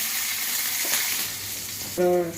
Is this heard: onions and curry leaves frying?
yes